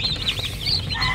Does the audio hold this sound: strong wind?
no